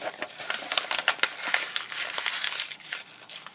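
Paper is crumpled by hand for a faux leather paper craft, a close, continuous crinkling with dense crackles and sharper snaps, with no talking.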